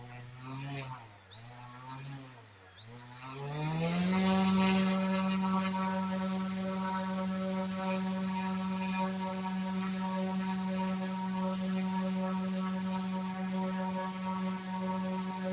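A Steadidrones Mavrik drone motor, faulty propulsion system, held close and run up: after a few seconds of wavering pitch it settles into a loud, steady electric whine with a strong buzzing hum that holds unbroken to the end.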